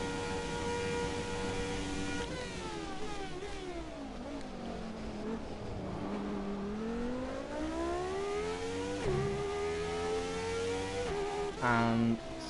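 A Formula 1 race car engine in the game F1 2017 drops and rises in pitch as it brakes and downshifts into the first corner then accelerates out, a steady close whine with a short blip near the end.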